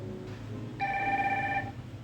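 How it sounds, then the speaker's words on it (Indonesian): A smartwatch rings with an incoming phone call, a short electronic ringtone of steady sustained tones that starts abruptly over a quiet room background, with no talking. "ini kita udah ditelepon ya. Jadi ini teleponnya udah masuk."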